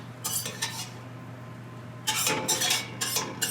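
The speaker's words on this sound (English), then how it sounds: "We are gonna transfer the cooked sausage with a slotted spoon to the side." Metal slotted spoon scraping and clinking against a cooking pot as cooked sausage is lifted out, two short clusters of clatter with a quiet pause between, close over a low steady hum.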